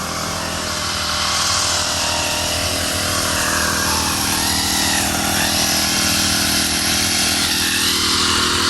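A grass cutter trims grass along a path by the roadside leading to a hut, its motor a loud, continuous buzzing whine that runs unbroken throughout with no talking.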